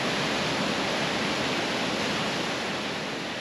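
A rushing waterfall along the Icefields Parkway, a powerful raging torrent that pours as a steady, loud, broadband roar filling the whole clip with no voices over it.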